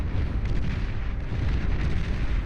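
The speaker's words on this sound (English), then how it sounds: "Commander explosion over there." A commander unit explodes in the real-time strategy game Beyond All Reason during an 8v8 deathmatch, a sustained, loud, rumbling blast with continuous low boom and crackling debris over about two seconds, no voices.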